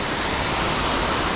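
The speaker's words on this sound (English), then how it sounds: "you have this magnificent waterfall" A waterfall in Warrumbungle National Park pours as a loud, continuous broadband rush of falling water, steady and close, with no other sounds.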